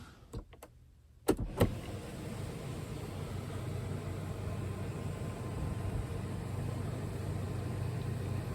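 A couple of sharp clicks, then a smooth, steady electric motor whir hums on without a break as the powered sunshade of a 2022 Volkswagen Atlas SE V6 slides closed.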